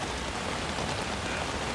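Steady heavy rain pours down on a summer afternoon amid strong gusts, a dense continuous hiss of drops striking surfaces close by, with no talking.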